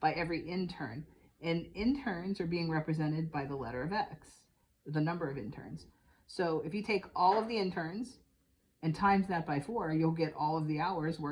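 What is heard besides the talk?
No everyday noises stand out.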